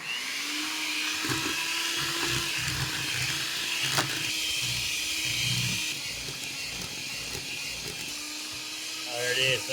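Electric mixer beating gooey butter cake batter in a kitchen, a steady loud whirring motor hum running continuously under a voice talking.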